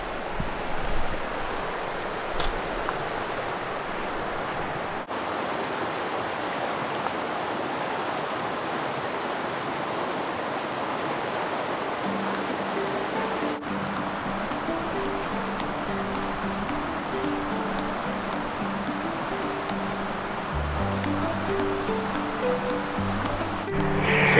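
Mammoth Creek in the Eastern Sierra flows in a steady, full broadband rush of moving water, close and continuous, with faint low tones entering in the latter half.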